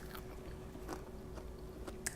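A crunchy bite into crispy fried polenta bites with a creamy center, heard as a few faint, short crunches spread across a quiet moment with no talking.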